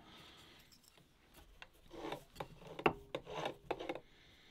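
Wood being shaped on a homemade lathe built from scrap wood and driven by a power drill, heard as quiet rasping and scraping strokes that grow louder in bursts toward the end.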